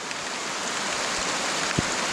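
Rain pours steadily outdoors in Costa Rica, a dense, continuous hiss with a couple of heavier drops or thuds near the end, no talking heard.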